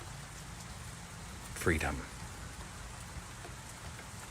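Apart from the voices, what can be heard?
rain falling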